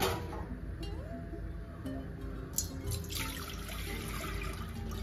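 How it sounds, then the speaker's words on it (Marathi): Water pours steadily into a pot of raw green mangoes in a home kitchen, a continuous close splashing and trickling with faint clinks, no voices. "आपण ह्यात पाणी टाकणार आहे."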